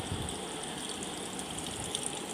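Tamarind squeezed and dissolved by hand in water for a thick chickpea and brinjal tamarind broth, a steady close wet swishing and sloshing that runs continuously without talk.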